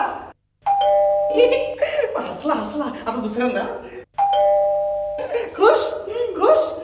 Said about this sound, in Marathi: आता काका तुमच्यासाठी बेल वाजवणार